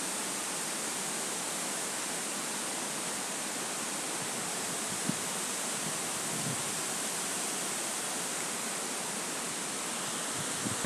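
Waterfall in Nigeria with a round, cliff-ringed basin, heard as a steady, even rush of falling water that continues unbroken without any voices.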